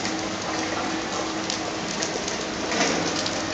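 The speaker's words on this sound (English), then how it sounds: "And it's raining. It's a very rainy morning." Steady, dense rain falling on a rainy morning, a close, continuous patter and hiss of drops striking surfaces, with no voices.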